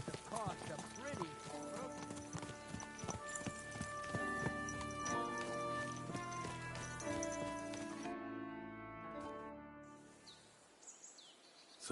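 Horses in the medieval role-playing game Kingdom Come: Deliverance II clop steadily on hooves, with a whinny and birdsong around them, while someone speaks over the scene.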